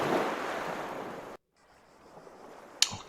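Sea waves in the horror adventure game The Last Door: a steady, breathy surf wash that cuts out abruptly, then a faint low rumble and one brief sharp tick near the end.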